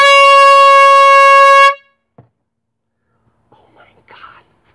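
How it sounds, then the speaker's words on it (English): A horn blown by people outside gives one loud, sustained brassy blast with rich harmonics for under two seconds, then stops, followed by near silence and faint distant sounds. "Did you hear the people blowing that horn?"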